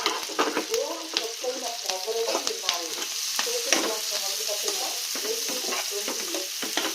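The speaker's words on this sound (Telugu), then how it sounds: "చూసారు కదండి, ఆనియన్స్, పచ్చిమిర్చి బాగా ఫ్రై అయిపోయినాయి" Sliced onions and green chilies frying in a pan for an egg masala curry give a steady close crackling sizzle, with a few louder stirring scrapes scattered through and no speech.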